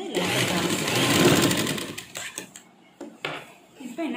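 A sewing machine stitches a folded hem on a 38 inch blouse, running in a loud, continuous close whir for about two seconds, then stopping amid scattered clicks and fabric handling.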